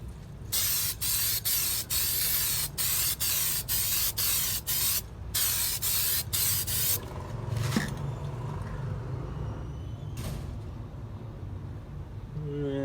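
Hammered-finish spray paint hisses from an aerosol can onto a door panel in a dozen short, evenly spaced bursts, close and loud, followed by quieter rustling and handling noise.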